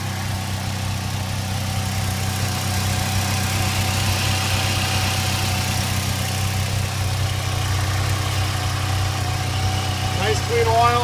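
A 2000 Pontiac Grand Am's 2.4-liter twin cam engine idles steadily, a continuous mid-low hum with constant vibration that stays even throughout, with faint background noise near the end.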